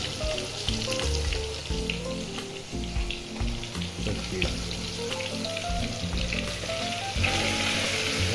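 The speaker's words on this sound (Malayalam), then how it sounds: "ഇനി നമുക്ക് എടുത്തിട്ട് ഫ്രൈ ചെയ്യാം" Chicken pieces frying in hot oil in a pan, a dense crackling sizzle with scattered pops throughout. Moderately close and steady, with occasional clinks and low knocks of handling over the frying, no talk.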